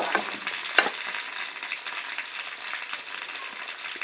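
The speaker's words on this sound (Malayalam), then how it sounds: "ഉലുവി ഇട്ടിട്ട് കരിവേപ്പിൻ്റെ വറ്റൽമുളക് ഇട്ടിട്ട് മൂപ്പിച്ചെടുക്കുക" Fenugreek seeds, curry leaves and dried red chilies frying in hot oil give a faint, steady crackling sizzle with one small pop, close by and without voices.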